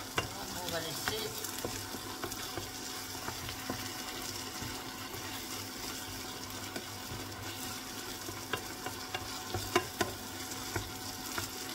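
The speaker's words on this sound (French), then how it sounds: "On va laisser mijoter un petit peu." Onions and apples simmer in a pan with a steady low sizzle and bubbling, small clicks of stirring poking through, close and moderately quiet with no talking.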